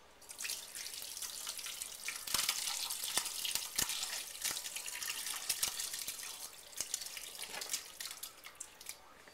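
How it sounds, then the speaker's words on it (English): Curds and whey for goat cheese (chevre) poured into a cheesecloth-lined colander, a steady splashing, trickling pour with dripping bursts, close and moderately loud, no talking. "now we're going to pour out the curds and the remaining whey into the colander lined with"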